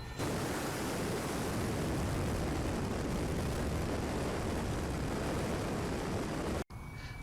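A Freewing 80mm A-10 RC jet with an electric ducted fan flies past, a loud, steady broadband rushing whine that stays constant throughout and cuts out briefly near the end.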